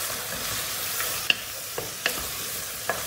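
Tomatoes and red pepper sizzle in a hot pan, a steady soft frying hiss broken by a few sharp clicks and scrapes of a spoon stirring, close up with no talking.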